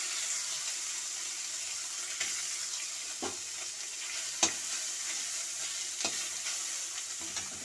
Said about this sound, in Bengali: এখানে আমার কড়া গরম হয়ে গেছে, আমি মাছগুলো দিয়ে দিচ্ছি,